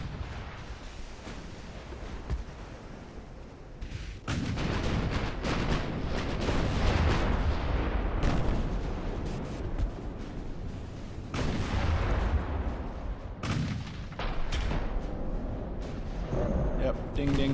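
Naval secondary guns fire on a battleship in Ultimate Admiral: Dreadnoughts, heavy booming salvos rolling in repeated bursts, loud and dense, with someone talking over the barrage.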